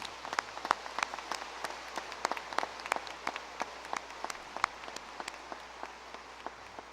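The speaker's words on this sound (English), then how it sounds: "How about one more round of applause for our graduates?" A college commencement audience applauds its graduates with crisp, distinct claps at a fairly moderate density, spread evenly through a quiet hall, with no voices.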